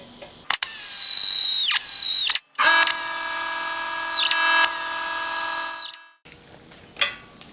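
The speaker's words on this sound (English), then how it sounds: "a nice sharp drill bit just to do a pilot hole" A sharp drill bit bores a pilot hole while fabricating doublers, boxes and fenders for a Firebird, the drill whining loudly in three long bursts before cutting off, followed by a few faint clicks.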